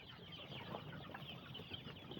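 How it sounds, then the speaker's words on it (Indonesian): Chicks and Jawa super chickens cluck busily while being fed on a farm, a steady chorus of close, overlapping clucks and peeps with no talking. "Ya ini kita kasih makan anakan ayam juga."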